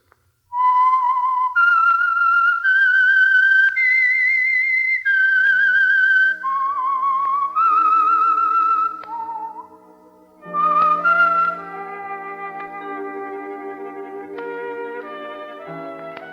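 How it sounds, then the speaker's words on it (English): The whistled signature theme of the 1940s radio program The Whistler: a lone melody rises and falls in clear, sustained notes, then an orchestra swells in beneath the closing phrase. "That whistle is your signal for the Signal Oil program"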